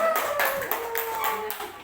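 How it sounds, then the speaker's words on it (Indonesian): An audience clapping for Ibu Yaya at a community dissemination session, a short burst of a few broad clapping pulses with a voice audible over them, near and moderately loud. "Berikan tepuk tangan yang satu kepada Ibu Yaya"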